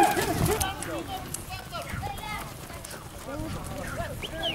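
Horses of kokpar riders go by at an outdoor gathering, hooves clip-clopping unevenly over a few seconds while several people talk and call out nearby.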